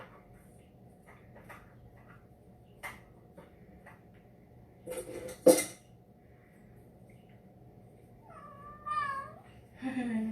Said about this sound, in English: My kitty is singing to me.